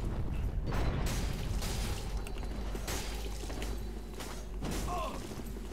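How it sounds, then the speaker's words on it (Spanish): Heavy door swinging shut in Dark Souls 3, a drawn-out mechanical creak with grinding gear-like ratcheting and dull thumps, layered over game ambience. "Cierra la puerta, eso es."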